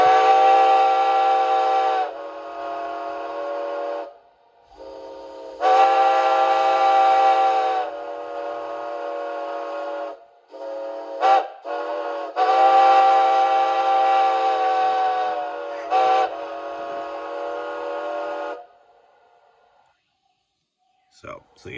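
A steam locomotive whistle blows a grade crossing signal in a long-long-short-long pattern, loud and close, with brief gaps between blasts and a faint hiss trailing at the end.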